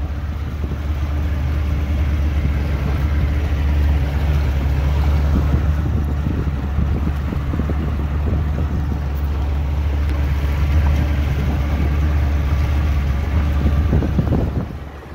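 A steady low boat engine drone on the water in summer with constant wind rushing over the microphone and faint splashing, continuous and close throughout.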